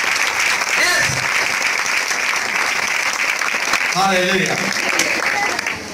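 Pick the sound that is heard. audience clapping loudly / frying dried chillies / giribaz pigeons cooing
audience clapping loudly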